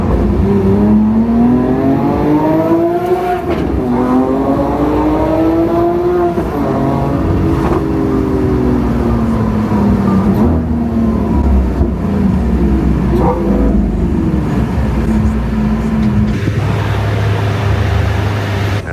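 A sports car engine revs repeatedly, pitch rising and falling through several loud surges, ending in a lower steady idle.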